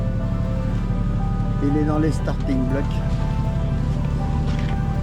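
A sailboat's engine running near Les Sables-d'Olonne, a continuous low rumbling drone that holds steady throughout, with someone speaking over it.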